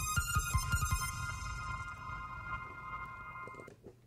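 Synthesized electronic tone drenched in reverb, opening with a quick series of pulsing low thumps under sustained high tones that wash out into a long, fading tail.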